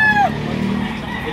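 A rooster crows briefly at the start, its call tailing off quickly against low farmyard background noise.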